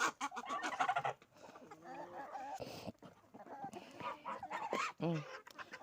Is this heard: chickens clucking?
yes